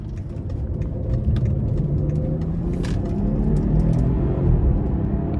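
Engine of a 2017 BMW 540i xDrive in Sport Plus mode pulls out of a corner, heard from inside the cabin as a steady, loud, low rumble that rises slightly in pitch, with faint ticks over it and no talk.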